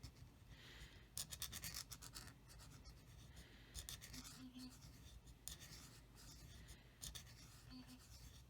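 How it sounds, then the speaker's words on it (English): A dental pick scoring a line into plastic for a model build: quiet repeated scratching strokes in uneven bursts, close and faint with a soft background hum. "you'll just start going harder and deeper with the dental pick"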